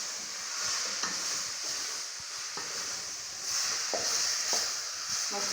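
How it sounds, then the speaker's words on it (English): Chopped tomatoes being stirred into beef stew frying in a pot, a steady sizzle with soft scraping stir strokes and occasional utensil knocks against the pan, close and continuous. "I'm going to add my tomatoes and then I'm going to stir."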